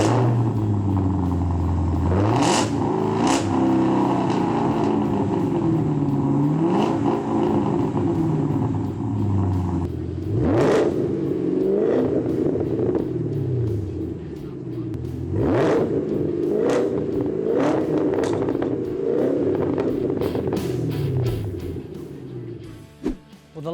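A Camaro with a MagnaFlow exhaust revs repeatedly, its deep engine note rising and falling in several loud sweeps over a constant rumbling idle, close to the listener.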